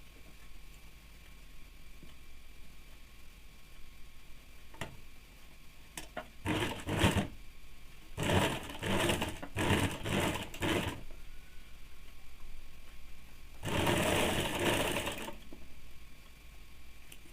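Bursts of a sewing machine stitching a one-inch folded hem on a woolen baby frock, several short runs of fast rattling stitches separated by pauses, close and fairly quiet.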